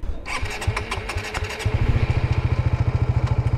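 A Suzuki GSX-R motorcycle engine cranks and catches, then settles into a loud, rapid, evenly pulsing idle close by, with no talking over it.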